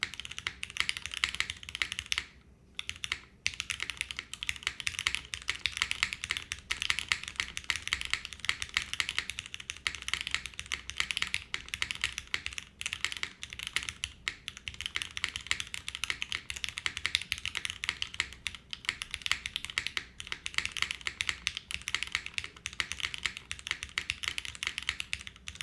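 Rapid, continuous typing on a Fukuro mechanical keyboard fitted with Yukihana switches, with crisp, close keystrokes in a dense patter and one brief pause early on, no voices present.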